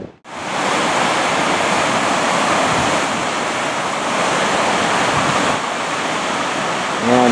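Creek water flows with a loud, continuous broadband rush that carries on steadily after a short knock at the start.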